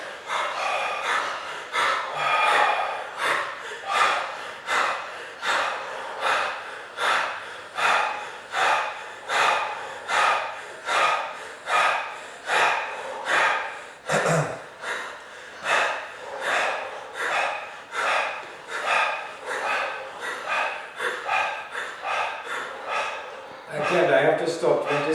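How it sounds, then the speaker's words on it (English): Deep, rapid open-mouth breathing during a Buteyko breathing test, a long run of loud, close, evenly paced gasping inhales and exhales, about one cycle per second, with a brief pause midway. "30 seconds of deep breathing"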